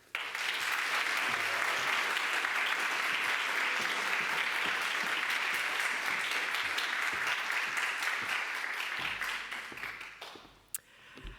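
An audience at a lecture on women translating Kafka greets the speaker with sustained, dense applause that stays loud for about ten seconds before tapering into a few scattered claps.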